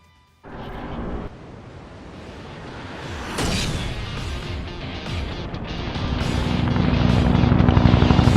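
A helicopter in Garry's Mod (Half-Life 2) thumps and whines, rotor building steadily louder and more intense over several seconds, with a sudden loud burst partway through.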